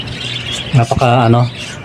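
Pet bird Tweety, which has hatched three chicks, gives a few short, loud harmonic squawking calls close by in the middle of the clip, over a steady low background hum.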